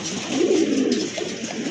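Satin pigeons in a fancy-breed pigeon collection giving a soft, low cooing murmur, close by and steady, with no voices over it.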